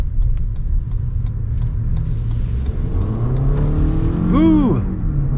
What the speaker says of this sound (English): Let us see what the full-blown acceleration is like with the